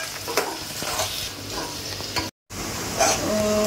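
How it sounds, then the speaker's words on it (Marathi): Chopped onion sautéing in a hot pan for a spicy Aagri chicken, a continuous loud sizzle with stirring scrapes and a brief dropout near the middle. "आणि कांदा आपल्याला छान परतवून घ्यायचा आहे."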